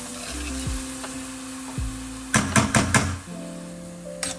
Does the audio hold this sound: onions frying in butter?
yes